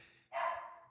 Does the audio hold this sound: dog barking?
yes